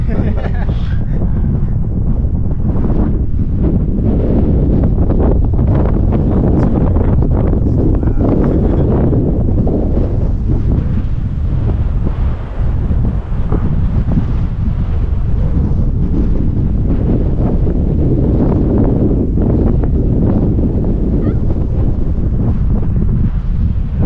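Strong wind roars and buffets the microphone while a lightweight 200-gram gull-wing model glider with ballast is flown outdoors, a loud continuous rumbling gust noise throughout.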